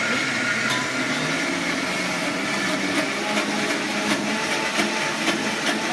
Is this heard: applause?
no